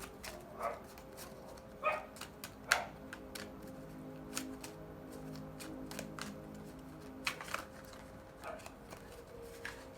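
A few faint, sharp dog barks and yips scattered over a quiet room background, some distant, with no clear talk.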